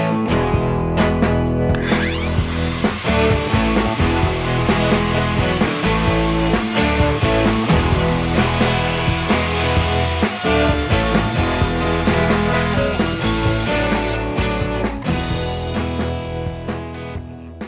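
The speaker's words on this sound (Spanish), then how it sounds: "En el momento en que encendamos el router, vamos a empujarlo hacia nuestro tope guía, vamos a apretar las tuercas del router y a empezar a decorar la orilla" A wood router cuts a decorative profile along the edge of a circular tabletop, giving a loud, continuous whine and grinding roar that holds for many seconds before spinning down near the end.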